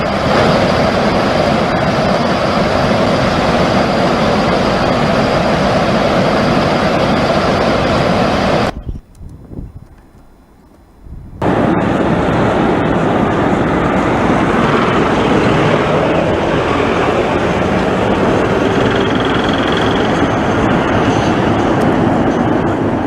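Floodwater from the Chenab River roars through the opened gates of the Salal dam, a loud, continuous rushing wall of noise that dips briefly midway before surging back.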